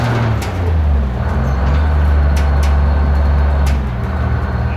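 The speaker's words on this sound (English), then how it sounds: "you don't depress the gas pedal more than a third to rev it, to make the air" A 1969 San Francisco Muni bus engine drones loud and close, a steady low diesel rumble that swells slightly as it revs to build air pressure, with faint clicks over it.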